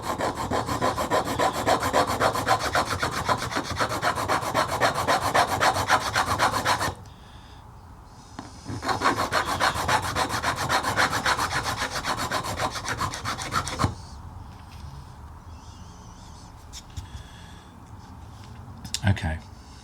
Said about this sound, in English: I think I've filed away all of the residue